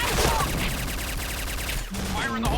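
Rapid bursts of suppressed rifle fire from an SC-2010 Silencer in the shooter game Point Blank, dense and continuous close up, with a brief break near the end before firing resumes.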